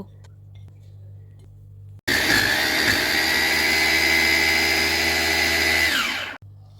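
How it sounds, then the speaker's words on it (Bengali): A blender whirs loudly and steadily for about four seconds, chopping slices of medium-size bread for a beef kabab mix, starting abruptly and cutting off sharply, with a low hum before and after. "তারপর আমি এখানে 3 পিস মাঝারি সাইজের পাউরুটি কেটে পাউরুটিগুলোকেও ব্লেন্ড করে নিব।"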